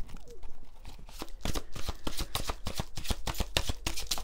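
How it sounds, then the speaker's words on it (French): Angel tarot cards being shuffled close up, a quick run of crisp riffling flicks and taps in an irregular rhythm for about four seconds, with no talking. "On va prendre quelques cartes du tarot des anges."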